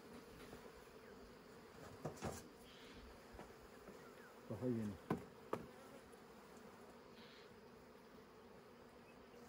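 Honeybees hum steadily around an outdoor beehive, a soft, continuous buzz at close range. A few brief voices and handling knocks cut in partway through.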